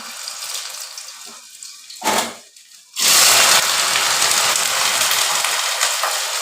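Taro roots are rinsed under a running kitchen tap. Water hisses and splashes, breaks off briefly, then returns as a steady, loud gush close by.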